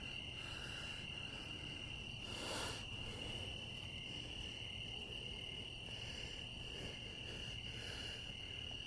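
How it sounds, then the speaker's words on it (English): At night, crickets chirp as a steady high-pitched drone alongside croaking frogs, a dense continuous chorus at an outdoor field recording site, faint and far with no voices. "The crickets are amazing right now."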